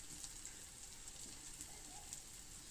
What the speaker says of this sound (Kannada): ಈಗ ನೆಕ್ಸ್ಟ್ ಇದಕ್ಕೆ ನಾನು ಆಲೂಗಡ್ಡೆ ಹಾಕ್ತಾನೆ.